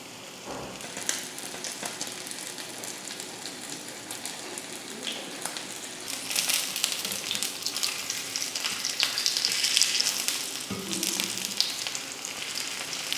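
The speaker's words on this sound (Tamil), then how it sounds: "இப்போ எண்ணெய் நல்லா காஞ்சதுமே மீன் எடுத்து இதில் வச்சிடலாம்." Vanjaram fish pieces coated in semolina frying in hot oil, a dense hissing sizzle like rain that swells louder midway, with a brief clunk near the end and no voices.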